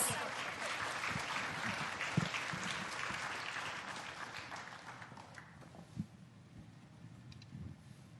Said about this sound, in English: Please welcome him with a warm round of applause.